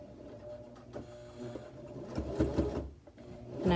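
Sewing machine backstitching the seam of a fabric tortilla warmer, a steady mechanical whir that stops, restarts and builds louder toward the end, close by with no talk.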